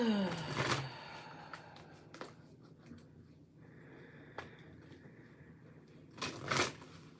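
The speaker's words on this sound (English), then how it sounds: "While I shuffle these cards." Oracle cards are shuffled by hand at close range, soft papery riffles and taps coming in short bursts with quiet gaps between them.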